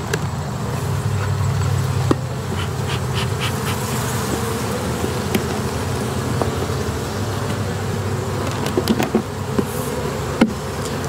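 Honey bees drone steadily at a queen mating nuc hive in a mating yard, a dense close buzz with individual bees zipping past, faint traffic far behind.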